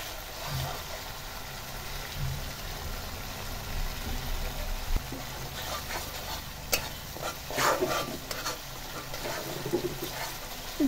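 Ground spice and chili paste sizzles in a pan for a loitta fish curry while a spoon scrapes and stirs it repeatedly, producing a steady close frying hiss with sharper scraping clicks.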